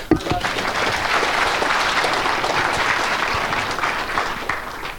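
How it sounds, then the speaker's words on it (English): An audience at a political forum for Texas lieutenant governor and attorney general candidates applauds, a dense sustained wash of clapping that holds steady for several seconds before tapering slightly at the end. "I personally add my applause to all of everybody else's"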